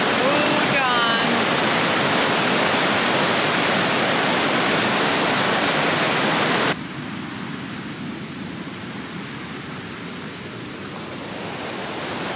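Bog River Falls, a waterfall on a short hiking trail, roars with a steady, loud rush of falling water. The level drops partway through as the sound turns more distant.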